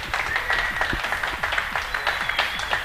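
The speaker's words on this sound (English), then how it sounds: "that's a big round of applause to him" A short burst of scattered hand clapping from a small crowd at a motor racing event at Thruxton, lively and continuous for a few seconds.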